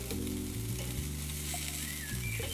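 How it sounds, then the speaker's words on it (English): Bacon-wrapped pork balls sizzle steadily directly over hot barbecue coals, a continuous close crackle with a low background hum and no talking. "Just going to put them directly over the coals"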